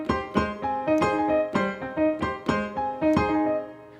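Piano montuno played in a harmonized approach, the two hands voicing the same chords with different notes; a lively, syncopated stream of struck chords and octave hits, close and evenly loud, with no voices.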